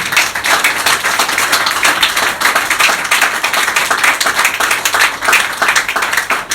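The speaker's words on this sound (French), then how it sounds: "On acclame très fort pour le Seigneur." A church congregation claps and cheers loudly for the Lord, dense sustained applause filling the room with steady rhythmic hand claps throughout.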